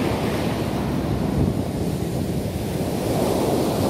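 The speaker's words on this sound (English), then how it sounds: "the waves are coming all the way up here" Ocean waves break on Miami Beach in a loud, continuous roar of surf, with gusts of wind buffeting the microphone and no voices.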